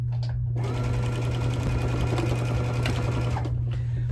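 Sewing machine stitching binding onto a quilt in a home sewing room, a steady continuous motor whir with rapid needle clatter, close and loud, running alone for about three seconds before it stops.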